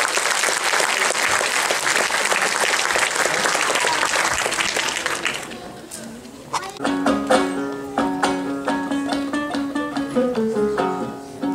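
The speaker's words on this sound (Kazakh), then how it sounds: "Қошаметтеріңізбен қол соғып отырыңыздар." An audience bursts into sustained applause for aitys folk singers at a stage performance, a dense crowd of clapping for several seconds that fades out as instrumental music begins.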